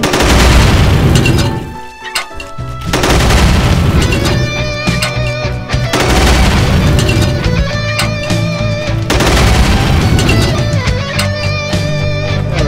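Loud, booming gunfire from the 2D game Slendytubbies: 2D Revolution rings out over a continuous music track. Heavy shots repeat in a steady rhythm, with a brief drop near the start.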